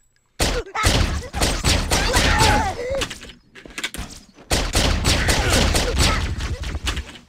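Suppressed SMG fire in the Halo ODST firefight map Ascension, heard as dense bursts of muffled, thudding shots in two long runs separated by a short pause, loud and close with no talk over it.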